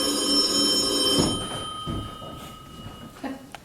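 A telephone rings during a stage musical performance: a loud, bright electric bell trill lasting about a second and a half, then fading into quieter stage noises and a few soft knocks.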